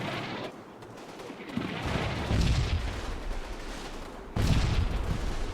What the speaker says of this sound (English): And that, I think that's a mortar